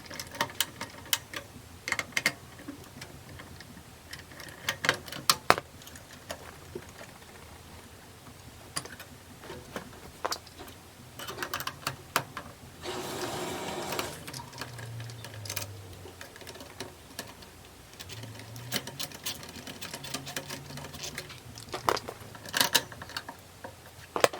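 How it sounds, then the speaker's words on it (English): A screwdriver working out four CPU cooler screws inside an Acer Veriton office desktop, with soft repeated ticks, clicks and light metallic scraping close by, fairly quiet and irregular, with no talk. "the stock cooler is taken out by unplugging the fan cable and unscrewing its 4 screws"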